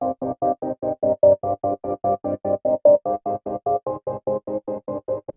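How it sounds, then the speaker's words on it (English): Chopped sample played on an MPC Live 2 through a filter gate effect, chopped into a fast, even stutter of about two dozen short tonal bursts with silent gaps between them, clear and alone. "I add a different effect on it, which is the filter gate"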